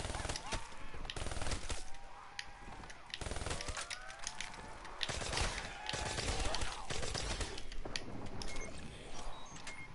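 Video game gunfire, bursts of shots mixed with clattering mechanical game sounds. It runs continuously at a modest level, with a voice talking over parts of it.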